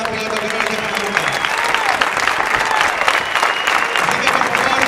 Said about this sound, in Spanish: Un fuerte aplauso para este gran piloto